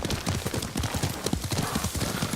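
Rapid galloping hoofbeats of a horse in the video game Ghost of Tsushima, a quick, driving rhythm of heavy thuds close by, continuing without pause across the whole stretch.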